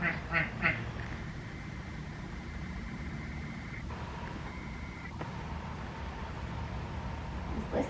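A duck quacks in a back garden, a few short bursts near the start, then the yard settles into a steady outdoor hum with faint distant traffic.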